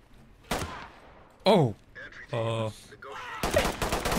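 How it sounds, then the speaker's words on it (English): Several sharp gunshots crack in separate bursts in a comedic police scene, with shouting voices in between. "Shots fired!"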